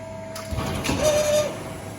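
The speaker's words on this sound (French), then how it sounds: "Hop, la machine se met en position." A press brake fitted with a Cybelec controller moving into position, a brief mechanical whir and slide with a faint rising tone, close and fairly quiet against a steady hum.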